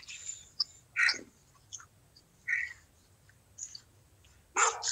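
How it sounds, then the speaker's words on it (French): A few sharp dog barks spaced apart over a quiet outdoor background, with faint bird chirps mixed in; moderately distant. "Oh là là, le chien."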